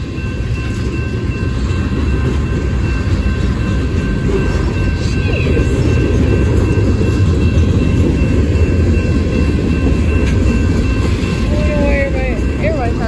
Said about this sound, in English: Southern Arkansas trains.